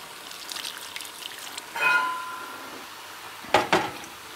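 Walnut-leaf dye liquid is poured back into a pot, giving a short splashing pour in the middle, followed by a pair of clanking pot sounds a moment later, all fairly faint over a quiet room.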